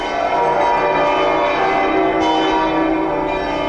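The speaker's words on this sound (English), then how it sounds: "and so did every bell in the house" Several bells ring together in a dense, sustained clangor, their overlapping tones filling the space loudly and continuously.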